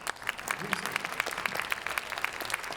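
Audience applause for a percussion ensemble's director at a school music performance, steady dense clapping from a crowd at moderate distance with faint voices mixed underneath.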